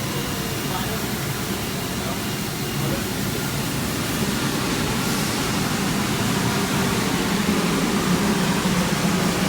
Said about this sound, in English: So these are the 2 jam grinders here